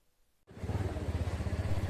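A motorbike rides in toward a temple parking area, its engine starting abruptly and then putting along in a steady, fairly close throb.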